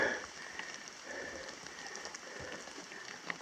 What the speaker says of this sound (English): Rain showing no signs of letting up, but on the bright side it's cool.